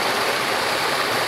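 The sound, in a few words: water falling from a concrete channel toward a waterfall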